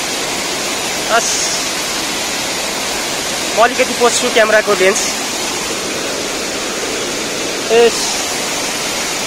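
Purandhara waterfall in Dang, Nepal, roars as a constant broad rush of falling water, loud and close, while someone talks briefly over it in a few short bursts.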